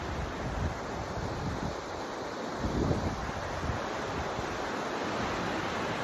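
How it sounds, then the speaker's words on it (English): High snowmelt river water rushes through a Nevada canyon in a constant broad roar, with gusts of wind buffeting the microphone and briefly swelling partway through. "I'm hoping that you can hear me over the sound of the water and the wind is blowing too."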